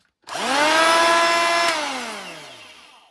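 A Bauer 20V cordless 3-1/4 inch planer spins up with a rising whine, holds a steady high-pitched motor hum at close range, then winds down as the tone falls away.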